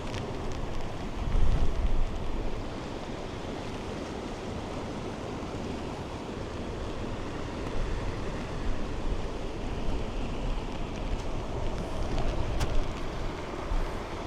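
Sea waves roll in where a small rain-fed river meets the ocean in a Japanese village, a steady broadband wash of surf with one stronger surge early on, no voices, continuous and moderately distant.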